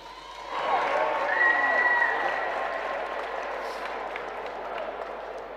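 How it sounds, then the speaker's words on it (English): Audience applause and cheering at a boxing event after a 10-round 135 lb bout, a broad steady wash of clapping that swells early and holds loud before easing slightly, with a faint voice over it. "Round of applause once again."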